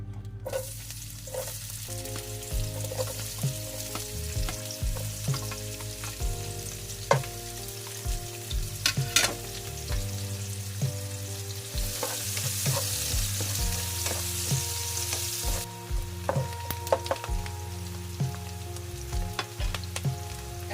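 Onions frying in oil for chicken biryani, a steady loud sizzle that runs the whole time, broken by repeated scraping and clinking of a utensil stirring the pan.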